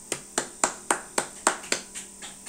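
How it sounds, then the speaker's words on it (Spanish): A single pair of hands claps about nine times at a steady, even pace, close and crisp, with each sharp clap standing out on its own. "aplauso."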